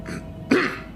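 A short throat-clearing cough muffled under the breath, two quick rough bursts close to the mic with no speech.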